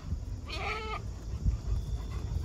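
A goat on a farm gives a single short bleat partway through, moderately loud against a steady outdoor background of low rumble and wind.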